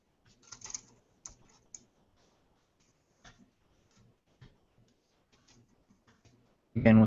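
Computer keyboard typing during a live coding session: scattered bursts of close, crisp key clicks with pauses between them, quiet overall, ending in a louder thump.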